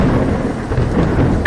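Thunderstorm with heavy rain, a dense low rumble of thunder over steady pouring rain, loud and close, with no voices.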